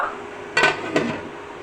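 A metal lid set on a cooking pot over steam, two close clanks about half a second apart over a faint background hiss.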